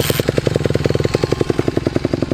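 A Honda CRF150R dirt bike fires up on a cold day and settles into a loud, close, rapid four-stroke idle, its regular pulsing beat running steadily throughout with no talking.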